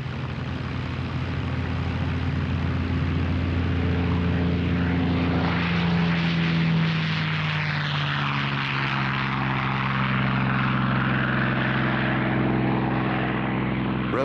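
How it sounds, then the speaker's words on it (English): Restored Spitfire fighter with a Rolls-Royce Merlin engine flying past, a loud continuous propeller drone with shifting engine tones that swell and fade across the pass, heard alone without talk. "This restored Spitfire carries the JEJ marking, immortalized by the great British ace, Johnny Johnson"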